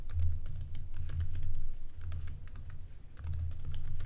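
A password is typed on a computer keyboard: a quick, close run of light clicking keystrokes in uneven bursts, with no talk.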